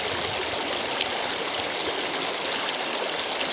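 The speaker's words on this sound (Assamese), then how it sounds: "এয়া হৈছে ধনশিৰি নদী" The Dhansiri River on the Assam–Nagaland border rushes past in a steady, close wash of flowing water, with no voices over it.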